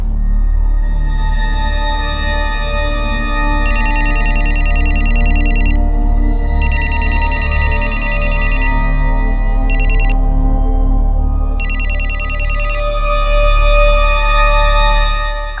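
A phone ringback tone rings out on an outgoing call, repeating in steady bursts separated by short gaps, loud and clear with no talking over it.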